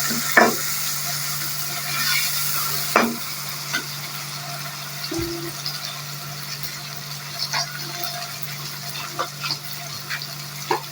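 Onion, garlic and tomato frying together in a pan for tinda sabzi, a soft steady sizzle broken by several sharp clinks and scrapes of stirring, close and fairly quiet, with no talking.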